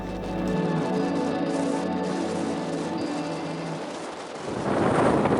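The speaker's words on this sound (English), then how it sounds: "Windy in Peel today. It's blowing force 5 gusting to 6 out at sea." Steady wind buffeting the microphone outdoors in Peel, blowing force 5 gusting to 6 at sea, a continuous low roar that swells louder toward the end, with no voices.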